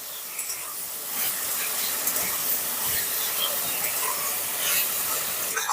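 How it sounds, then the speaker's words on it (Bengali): Cauliflower florets fry in a pan, giving a steady, fairly faint broadband hiss with a few small crackles as they are stirred. "ফুলকপিগুলো নাড়াচাড়া করতে করতে বেশ খানিকটা ভাজা হয়ে এসেছে"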